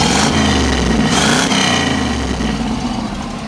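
A Chevrolet Camaro Z28 with a 302 V8, rattling and clattering, revved a little: a loud, close rumbling run with a couple of throttle blips that then settles and fades slightly, with no one talking over it.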